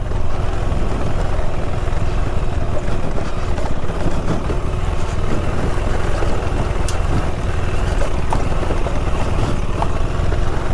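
A 2026 KTM 390 Adventure R motorcycle rides off-road through backcountry snow and mud, its engine droning loud and steady with constant wind rush, close and continuous.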